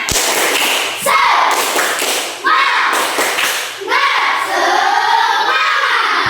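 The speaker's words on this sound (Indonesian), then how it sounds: "Tepuk semangat!" A classroom of pupils performs a rhythmic clapping chant, sharp claps in quick patterned bursts mixed with shouted group voices, loud and close throughout.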